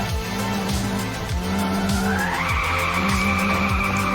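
Car drifting in the racing game First Racer, with loud continuous tire skidding and squeal over a revving engine, repeated pitch sweeps from gear shifts, and no talk.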